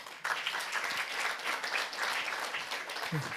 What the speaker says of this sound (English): Please give applause to.